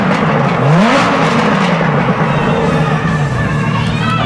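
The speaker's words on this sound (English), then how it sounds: "Rev it up, Austin." At the 2023 Barrett-Jackson collector car auction, a car engine revs loudly on the block, its pitch sweeping up and then holding a strong roar, with a crowd murmuring and cheering around it.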